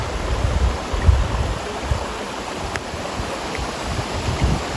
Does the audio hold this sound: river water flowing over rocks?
yes